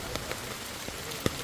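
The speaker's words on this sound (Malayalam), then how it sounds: "പുറത്ത് നല്ല മഴയാണ്." Rain falls near a waterfall trail, a soft steady wash with a few scattered close drops or taps standing out, faint and even throughout.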